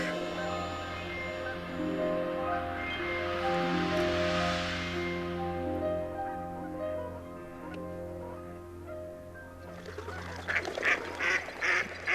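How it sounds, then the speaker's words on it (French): Canada geese honk in the Dundee marsh ahead of spring migration, over a steady harmonic background, with a louder flurry of calls near the end. "une bernache, une outarde comme on dit ici"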